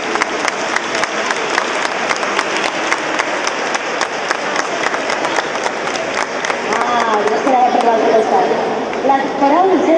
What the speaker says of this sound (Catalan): Els rebem amb un fort aplaudiment mentre s'avancen aquí a l'escenari